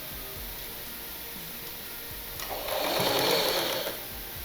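Sewing machine running a short burst of stitching along the folded edge of a blouse, a steady whirring hum rising for about a second and a half against quiet room tone, with no talking.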